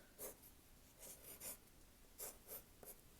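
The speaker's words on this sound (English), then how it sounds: "it's actually kind of nice to write. I don't think I've written on paper in forever" Pencil writing on paper, heard as faint, close scratching strokes in short separate bursts with quiet pauses between them.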